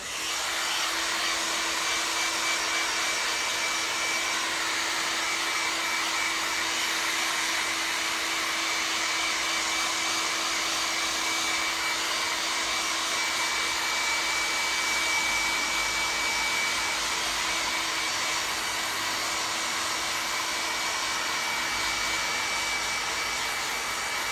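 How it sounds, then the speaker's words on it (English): A hair dryer blows steadily at close range on a leather jacket being dyed, a constant loud whooshing roar with a faint high whine, running without pause throughout. "Go back to the hairdryer."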